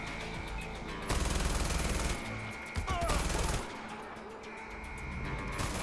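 Sustained automatic gunfire from a powerful gun in the video game Far Cry 4, during a fortress assault: loud rapid bursts that swell and ease over several seconds, with a brief pause and a crash partway through.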